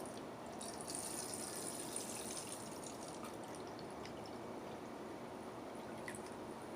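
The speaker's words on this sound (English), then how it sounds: "So fill it all the way up with water." Tap water steadily filling a reused can, a continuous close rushing and splashing pour with no speech over it.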